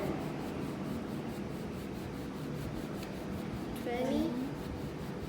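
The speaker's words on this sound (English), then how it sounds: "I changed to handkerchief, and now I'm going to do 50 times rubbing" A handkerchief being rubbed repeatedly, a steady soft dry rasping scrape that runs continuously and fairly quietly, close up, with a brief voice near the end.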